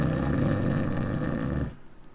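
A human voice imitates the snore of a sleeping great red dragon during a tabletop role-play session: one long, rough, rumbling snore that cuts off abruptly, leaving near silence.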